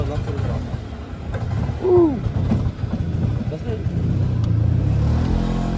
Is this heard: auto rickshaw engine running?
yes